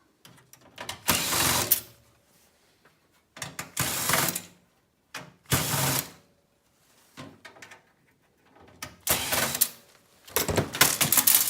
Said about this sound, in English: Next, we're going to pull the screws